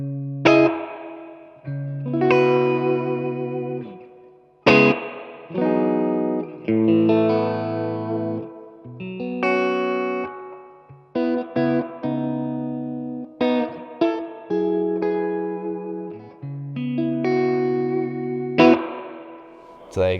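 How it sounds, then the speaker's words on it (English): An electric guitar plays through a Marshall JCM900 Studio amp with the reverb turned all the way up, giving loud chords and notes with long washy tails and echoing sustain. "It's going to be a lot of reverb now."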